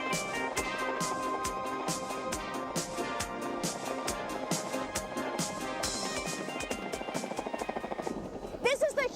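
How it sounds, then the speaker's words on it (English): A Huey utility helicopter thumps with a steady, rapid rotor beat, close and prominent, with a narrator's voice running over it throughout. "which is a utility helicopter"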